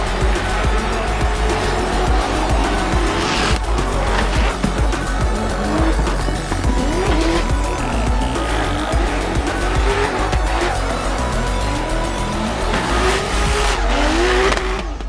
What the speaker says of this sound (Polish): smoking tires off the start line straight away